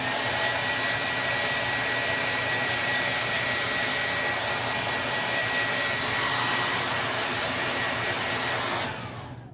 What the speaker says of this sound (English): So I took a blow dryer to it for a little bit, so I don't accidentally smudge it.